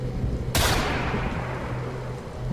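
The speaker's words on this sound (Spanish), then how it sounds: "Un disparo se escuchó a lo lejos, en lo profundo del bosque." A single gunshot rings out far off deep in a forest: a sharp crack with a long fading tail, heard over a low background hum.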